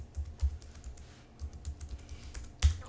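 A computer keyboard is typed on in short, soft, irregular keystrokes, like a password being entered into a terminal login, closing with one sharper key press.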